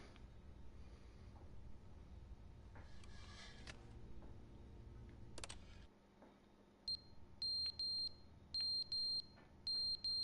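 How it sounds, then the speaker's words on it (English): Smoke alarm in the video game The Stanley Parable chirping in a row of sharp, high, evenly spaced beeps in the second half, following a stretch of low ambient rumble and a few brief clatters. "the smoke alarm needs replacing"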